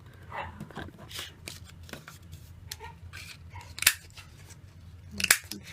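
A paper punch cuts half-inch circles from cardstock, giving two sharp, crisp clacks a little over a second apart amid soft paper rustling and handling noises.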